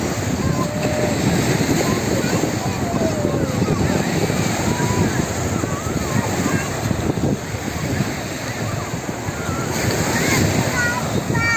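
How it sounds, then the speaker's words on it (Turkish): Sea waves wash in steadily at Ören beach in Burhaniye, a broad, continuous surf roar on a slightly rough day, close and fairly loud with no break. "Biraz dalgalı bugün ama yine de çok güzel."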